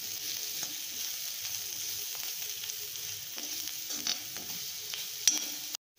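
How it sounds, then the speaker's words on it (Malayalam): Grated jackfruit seeds with turmeric, chilli powder and black pepper sauté for a Kerala-style thoran, producing a steady close sizzle with soft scraping strokes that stops abruptly at the end. "എന്നിട്ട് നന്നായിട്ടൊന്ന് വഴറ്റി കൊടുക്കാം."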